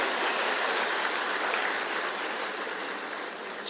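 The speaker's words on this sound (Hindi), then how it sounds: "आप भी ताली बजा के स्वागत करो" Sustained applause from an audience welcoming participants at a government scheme launch event, steady dense clapping throughout without a break.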